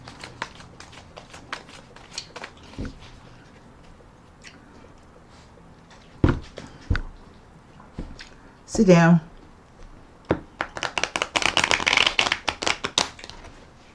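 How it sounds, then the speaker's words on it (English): A deck of tarot cards is shuffled and riffled in a quiet room, with sparse taps and clicks, then a quick riffling burst and a denser flurry of shuffling near the end, while a person speaks briefly. "I'll put another shuffle and rifle on the deck"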